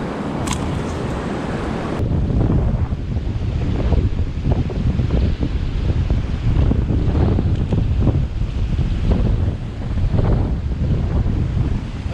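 Strong wind buffets the microphone under a bridge during magnet fishing, a loud, steady roar with gusty surges throughout, no speech.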